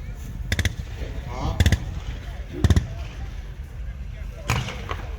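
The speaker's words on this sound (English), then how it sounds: "The light automatic fire of the Americans, the Germans are withdrawing" Bursts of light automatic gunfire crack out across an open field during a WWII battle reenactment at a tank show, several short rapid volleys spaced a second or so apart amid outdoor rumble, with a voice commentating.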